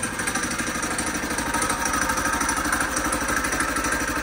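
A cold Trailmaster go-kart engine idles steadily just after being started, a loud, continuous close-up mechanical clatter and chug with no talking.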